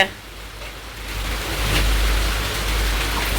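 Rain mixed with hailstones comes down in a season's first storm, a dense hiss that swells louder about halfway through and keeps going steadily.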